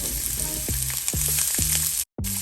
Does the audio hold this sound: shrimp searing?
yes